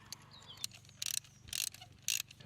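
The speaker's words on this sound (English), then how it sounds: "Just place the new spark plug on the socket and slowly tighten it in there by hand." A socket on a Volvo S80 3.2 B6324S engine turns a new spark plug in, giving faint, close ratcheting clicks in short bursts over a quiet background.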